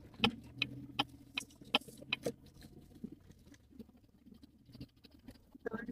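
Light rain patters on a car during a drive, with soft, irregular taps and clicks over a faint low hum from the road and engine.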